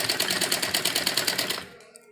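A sewing machine runs in a fast, steady rhythmic burst, stitching a double-folded seam on a heavy suit kurta, then stops abruptly near the end.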